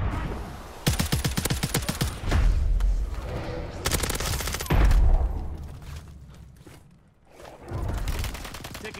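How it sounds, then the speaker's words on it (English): Rapid automatic gunfire in Zombie Royale, bursts of close, loud rattling shots broken by heavier booms, with a brief lull before more firing near the end. "Taking effective fire."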